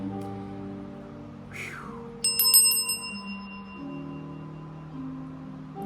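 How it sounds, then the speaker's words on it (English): A bell rung once before a tarot reading gives a bright, clear ring with a few quick strikes that decay over about a second, set over soft steady background music, with no talking. "Let's ring the bell before we start."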